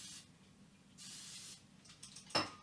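Two short hissing bursts from a spray bottle mist a granite countertop in a kitchen, fairly quiet and close, followed by a faint clatter and a sharp knock.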